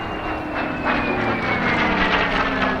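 A vintage warbird drones overhead at an air show, the sound of a Supermarine Spitfire's Merlin engine carrying as a steady, moderately distant rumble with a faint falling whine.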